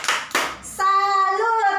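A group claps twice in a "tepuk salut" clap chant, two sharp bursts close together, then voices carry a sung, chanted line.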